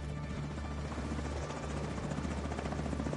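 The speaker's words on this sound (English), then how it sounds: "Helicopter approaching." Helicopter approaching in the video game The Division, a loud, steady rotor thump with a deep rhythmic beat and engine whine, continuous throughout with no talk.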